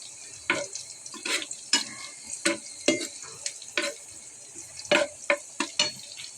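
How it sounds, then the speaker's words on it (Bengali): Onion and three green chilies cooking in hot oil, heard as bursts of sizzling and stirring scrapes that come in irregular clusters, close and fairly loud, with no talking. "এখানে পেঁয়াজ তেলে দিয়েছি এবং 3টা কাঁচামরিচ"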